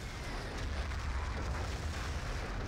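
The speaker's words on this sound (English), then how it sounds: "Artillery landing from Existence." Artillery shells landing in Battlefield 2, heard as a steady, muffled low rumble of distant impacts without distinct individual blasts.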